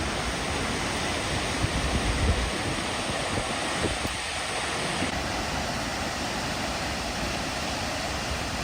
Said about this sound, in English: So there are actually two waterfalls here.